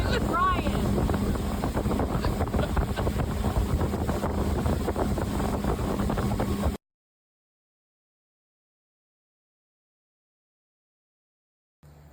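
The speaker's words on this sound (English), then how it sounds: "We are on the senior citizen earboat ride with Ryan." Airboat ride for senior citizens, a loud steady roar of engine and rushing wind buffeting the microphone for several seconds, then sudden silence before a brief return of noise.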